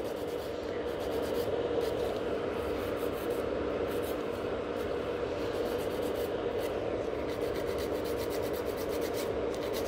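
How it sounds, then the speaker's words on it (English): A file scrapes underneath a gel nail in a salon, a steady close rasping rub repeating in quick even strokes, with no talking. "Kind of filing underneath"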